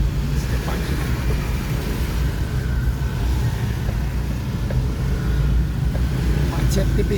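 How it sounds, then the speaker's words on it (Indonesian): Light morning traffic crawls across a village bridge near Desa Kapur, a continuous low rumble of passing cars and motorbikes with occasional faint horn or engine tones over the steady drone. "Macet tipis-tipis."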